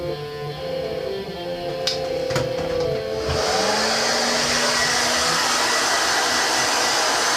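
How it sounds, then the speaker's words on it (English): A hair dryer blows steadily, close and loud, with faint clicks and knocks early on before the airflow swells into a fuller constant roar that continues to the end; no one speaks. "First I need to blow dry my hair"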